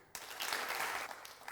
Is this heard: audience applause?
yes